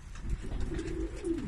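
Pigeons coo softly in low, throaty murmurs, a short run of rolling calls close by with no talking.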